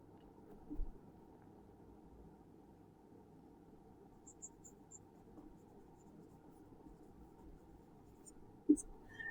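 Pen writing words by hand on paper, a faint steady scratching under low room hum with a couple of soft taps, no voices.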